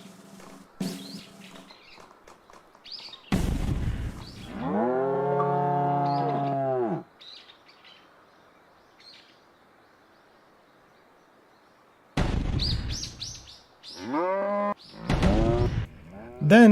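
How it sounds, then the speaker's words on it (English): Cows in the video game Deer Simulator give several loud, drawn-out moos, one around the middle and a cluster of overlapping calls near the end, separated by quiet stretches with faint background noise. "you should find some cows down in this area"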